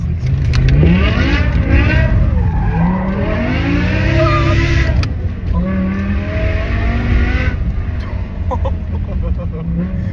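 BMW M5 with a V10 engine and full straight-pipe exhaust drifting, loud rising and falling revs with sweeping pitch changes, shifts and bursts of tire noise, heard close from inside the car, with voices talking over it.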